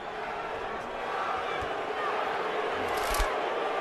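An arena crowd at the Pacquiao vs Marquez boxing fight murmurs and stirs in a continuous, fairly faint background roar that swells slightly partway through.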